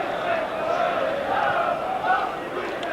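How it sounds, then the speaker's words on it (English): Football crowd at a 1991 Tottenham Hotspur v Liverpool league match, a broad sustained roar and chant from the stands heard at a distance, with a commentator talking over it. "It's certainly a game that the crowd are greatly enjoying at the moment."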